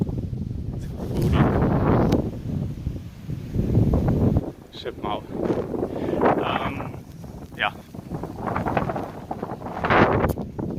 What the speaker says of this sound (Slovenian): Malo trese vse, ko veter piha